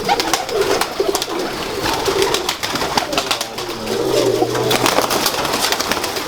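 A Sialkoti pigeon coos repeatedly and prominently at close range, with rough rustling and crackling noise around it and no talking.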